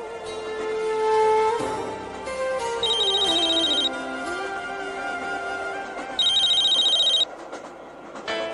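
A phone ringtone plays in two repeated electronic trills with a gap between them, heard over a steady musical background.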